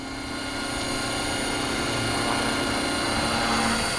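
A radio-controlled 500-size UH-72 Lakota model helicopter hovers at about 1700 RPM, its rotor and motor producing a loud, steady, high whine with constant buzzing drone throughout.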